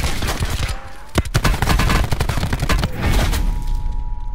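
Rapid bursts of automatic gunfire from Call of Duty Black Ops Blackout, many loud close shots in quick succession with booming impacts, layered over a steady in-game hum.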